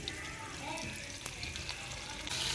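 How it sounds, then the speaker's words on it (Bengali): Ginger and garlic fry in butter in a pan, a steady soft hiss of sizzling fat that runs throughout, fairly quiet and close, with a brief faint clink partway through. "বাটার দিয়ে দিলাম আদা রসুন"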